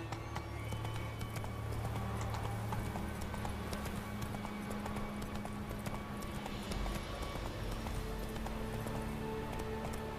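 Roach the horse galloping in The Witcher 3, hooves clip-clopping in a quick, steady rhythm over ambient game music and background sound, with a faint snort or whinny.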